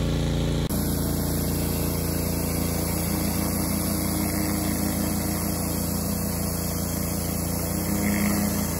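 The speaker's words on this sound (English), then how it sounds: "this surface cleaner is able to remove that top layer of grime that really nothing else can seem to get to" A Ryobi surface cleaner runs on blacktop road, giving a steady, loud engine drone and hissing water spray that holds unbroken throughout with no voices.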